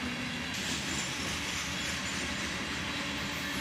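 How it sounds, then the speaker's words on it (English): A southbound ore train led by a single ES40DC locomotive rolls past at sunrise, a steady, fairly faint rumble of wheels and cars with a light squeal and no talk. "we'd catch this southbound ore train right after sunrise with a single ES40 DC on the head end"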